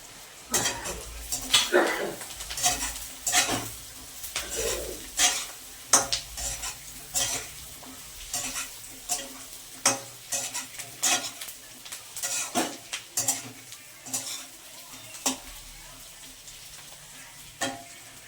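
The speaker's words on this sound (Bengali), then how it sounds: "ক্যাপসিকামটা ভাজা হোক" Capsicum fries with already-browned onions in a pan for chilli chicken, a soft steady sizzle broken by repeated sharp scrapes and clinks of a spatula stirring against the metal.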